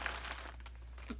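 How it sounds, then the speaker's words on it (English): Plastic packaging crinkles in faint, short bursts of crackling while needlework supplies are handled, with no voice over it. "Sorry for the crinkling."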